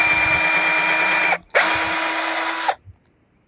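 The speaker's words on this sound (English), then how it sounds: "So just going to pre-drill them first." A power drill pre-drills holes for screw eyes on a homemade clothes line, two loud steady whirring bursts of about a second each separated by a brief pause, then a small clunk as it stops.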